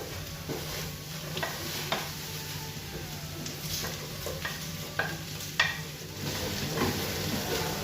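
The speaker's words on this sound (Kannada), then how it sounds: "ಟೊಮ್ಯಾಟೊವನ್ನು ಸೇರಿಸಿ ಚೆನ್ನಾಗಿ ಫ್ರೈ ಮಾಡಬೇಕು." Tomatoes and ginger sizzle steadily in a hot pan while a spoon stirs and scrapes at intervals, with occasional sharp clinks against the metal; a continuous close frying hiss sits under the stirring, and no voices are heard.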